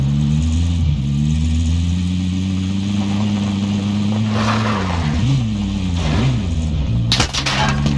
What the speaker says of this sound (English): Out of my way. I'll drive.